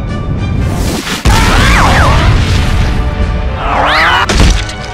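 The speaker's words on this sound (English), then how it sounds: "It's the fastball Billy Bomb." A fastball Billy Bomb explodes in a video game as a loud, dense roar with a sharp crashing hit near the start and another near the end, with warbling game effects overhead.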